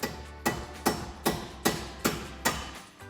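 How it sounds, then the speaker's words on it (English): A hammer taps splined bolts through on a 2024-2026 Ford Mustang GT during a lowering-spring install, striking metal in a steady rhythm, seven sharp ringing taps about half a second apart, close and loud. "Grab your hammer and just tap those bolts through."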